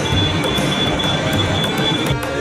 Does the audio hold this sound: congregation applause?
no